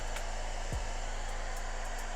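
A handheld blow dryer drying wavy hair in a salon, a steady close whirring hum of motor and airflow with a brief bump as it moves, no speech.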